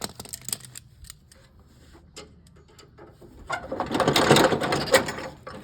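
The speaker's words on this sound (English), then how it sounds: "So go ahead and pull that cotter pin out." A cotter pin is worked out of a riding lawnmower's cutting deck, producing faint scattered metallic clicks and ticks close up, followed by a louder scraping rattle as the pin comes free.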